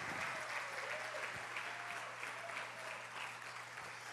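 Church congregation applauding in praise, a steady, fairly faint wash of clapping that holds evenly for the whole stretch, with a low hum underneath.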